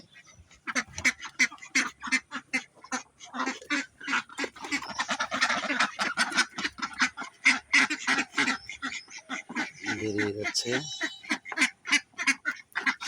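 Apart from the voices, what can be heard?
flock of ducks quacking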